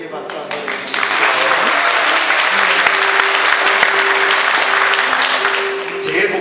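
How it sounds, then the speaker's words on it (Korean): Audience applause at a church drama team performance, a dense sustained burst of clapping from a crowd indoors, loud and close, lasting several seconds before tapering off, with a voice speaking faintly underneath. "박수 한번 해주세요"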